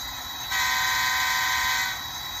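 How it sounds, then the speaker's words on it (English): A Bachmann N scale CSX CW40-8 model locomotive sounds one sustained horn blast of about a second and a half, standing out over a constant electronic hiss. "I meant to do short horns"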